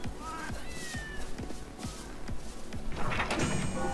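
Cat meowing in the video game Tokyo Jungle, heard as short rising meows over a bed of rhythmic game sound effects and background music, with a louder, noisy burst toward the end.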